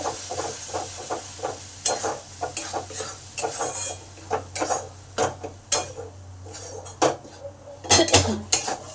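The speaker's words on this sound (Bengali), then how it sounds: "এবার পেঁয়াজ টমেটো আদা যেটা বেটেছি সেটা দিয়ে দিলাম এটাকে ভালো করে কষে নেব" Onion, tomato and ginger paste being stirred and fried in a pan, with close metal spoon scrapes and clinks in an irregular rhythm over a faint steady hum, no voices.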